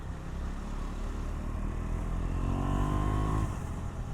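A KTM 390 Duke Gen 2 single-cylinder motorcycle pulls steadily under the rider, the engine note climbing through gears with brief quick-shifter cuts, loud and close with constant wind rush.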